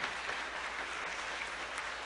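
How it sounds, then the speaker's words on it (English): Steady, dense clapping from a large church congregation, sustained and even throughout with no voices standing out. "Let's give these folks a round of applause."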